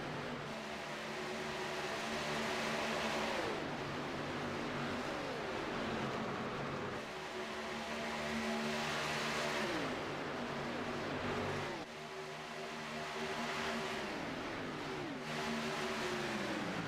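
NASCAR-style race cars in the Talladega 125 roar past in repeated waves, engines rising and falling as the pack sweeps by up close, loud and continuous with no talk.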